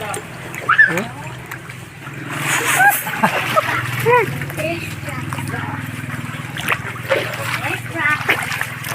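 River water splashes and sloshes as people wade in the river at Tabuelan, Cebu, a steady churning outdoors with people talking and shouting over it throughout.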